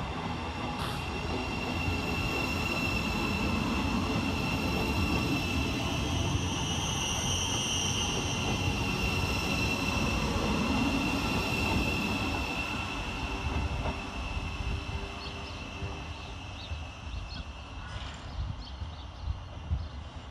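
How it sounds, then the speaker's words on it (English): A Govia Great Northern Class 717 electric train runs past Bowes Park station, working from Alexandra Palace, a steady loud rumble and rail clatter sustained for about twenty seconds, easing slightly toward the end. "Taking us a little by surprise for Govia Great Northern is 717011, working 5 Whiskey 23 from the Alexandra Palace."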